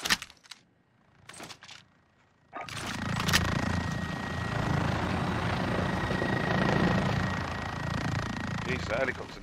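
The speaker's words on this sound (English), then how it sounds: "Jeez, that helicopter nearly took your head off." A helicopter in Call of Duty Modern Warfare passes close overhead, its loud rotor roar swelling in after a few quiet seconds of short game sounds and holding steady with a thin whine above it, then easing slightly near the end.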